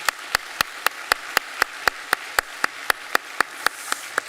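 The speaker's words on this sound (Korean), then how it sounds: "박수로 환영하도록 하겠습니다" A church congregation at Sunday worship welcomes three newly registered families with applause: a steady run of sharp, evenly spaced claps, about four per second, heard without talk.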